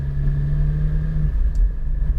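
Porsche mid-engine GT4 race car on the Portland International Speedway track, a loud steady engine drone that drops in pitch partway through, heard close with no talk.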